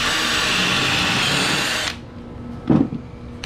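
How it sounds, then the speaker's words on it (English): A loud power drill whines steadily drilling a dowel hole in a wooden plant stand leg, then cuts off and winds down, followed by a single soft knock. "So let's drill this one, and then we'll drill the other 3."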